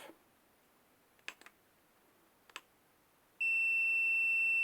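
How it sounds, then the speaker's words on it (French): Vevor infrared thermometer rated to 1500°C, a few faint clicks of the trigger and buttons, then its alarm starts a loud continuous electronic beep once the reading passes the set limit. "Quand on dépasse 29, ça sonne."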